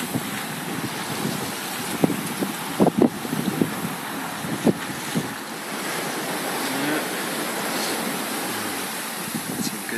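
A boat motors through ocean swells off the coast near Bull Harbour and Guise Bay, steering on autohelm, with a steady broadband wash of water and wind noise and a few brief knocks and splashes.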